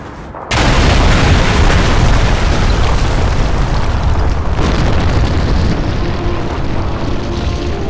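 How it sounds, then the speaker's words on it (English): Grenade explosions in the World War II video game Call of Duty 2 (2005): a sudden heavy blast opens into a sustained, very loud roaring rumble that lingers for several seconds and slowly thins. "Grenades!"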